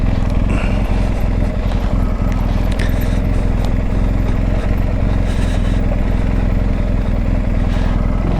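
A BMW R1250 GS motorcycle rolls along at tick over speed, a steady low engine idle under constant rumble and wind, with faint clatters and knocks on top, close and loud throughout.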